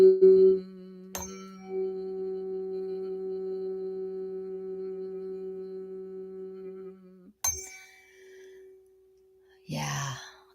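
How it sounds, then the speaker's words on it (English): A steady sine tone on a G note plays for sound therapy, holding evenly for several seconds with a faint sustained hum beneath, then a sharp click and a brief breathy sigh near the end. "this is a G note"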